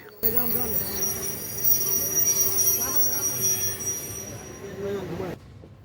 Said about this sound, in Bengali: এই মুহূর্তে আমাদের ট্রেন পৌঁছে গেছে তার যাত্রাবিরতির পঞ্চম স্টেপস আখাওড়া রেল স্টেশন